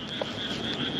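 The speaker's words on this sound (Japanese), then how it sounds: "カエルがうるさいから向こう行こう。" Frogs croak near a rice paddy in a dense, continuous chorus, with one brief louder call standing out against a steady high insect-like drone.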